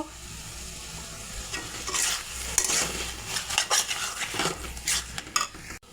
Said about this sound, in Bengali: এই যে দেখুন, কচু শাকটা ভাজা হয়ে গেছে।